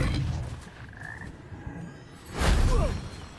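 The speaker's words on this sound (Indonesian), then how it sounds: "Wah, ada 4 kodok," Frogs croak in the Hogwarts Legacy video game, a few short croaking calls over a busy game ambience, with a louder burst of croaks near the end.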